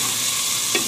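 Masala frying in a pan, a brief steady sizzle with a light stirring scrape near the end.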